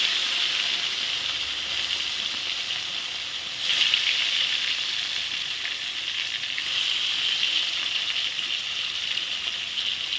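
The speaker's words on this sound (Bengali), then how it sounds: "তেল গরম হয়ে গেছে, আস্তে আস্তে এখন আমি মাছগুলো ভেজে নিই" Pieces of fish, head and steak cuts, frying in hot oil in a pan: a continuous bright close sizzle that swells louder as more pieces go in, with no talking.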